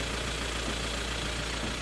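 A van engine idles close by, a steady low rumble with a constant broadband wash and no pauses or talk.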